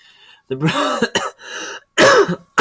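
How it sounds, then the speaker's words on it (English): A voice breaks into a few harsh coughs and throat-clearing bursts, close and loud, separated by short pauses. "Oh, sorry, I got a cough."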